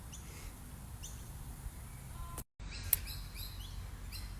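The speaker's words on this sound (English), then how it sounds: "You hear that bird?" Bird chirps in a quiet outdoor setting, a few short faint tweets spaced apart, with a brief dropout midway and then a sharper call.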